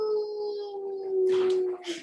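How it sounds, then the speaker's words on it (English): A dog howls in one long, drawn-out, wavering tone that holds steady, then breaks into a brief higher yelp at the end, fairly close and alone without speech. "How could you write that he's howling?"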